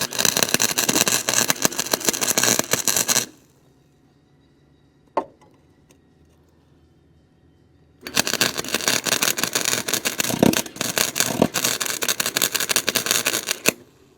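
A wire-feed welder tacks a John Deere lawn mower part, two loud sustained crackling, buzzing bursts of arc noise separated by a quiet pause with a single click in between.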